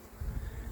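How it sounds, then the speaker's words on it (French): Honeybees from a captured swarm fly loose inside a car boot, giving a brief, steady, low buzzing hum close by with no voices. "Pas mal d'abeilles là qui volent dans le coffre"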